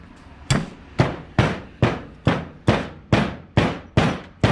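Ten sharp hammer taps strike a metal part at a steady, even rhythm, each a loud crack with a short ringing decay, close by with no talking, while building a Kawasaki 550 jet ski.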